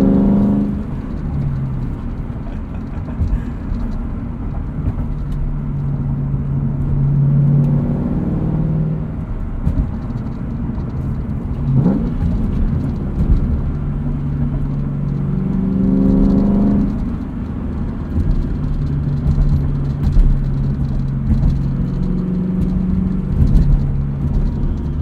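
A 2003 Ford Mustang Mach 1 V8 heard from inside the cabin while driving, a steady low engine drone and road rumble that swells and eases with the throttle over a long stretch, with no talking.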